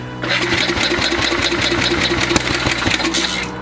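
A Sears Custom 10XL garden tractor engine runs close by at a steady idle, producing a loud, even putter of regular firing pulses throughout with no talking.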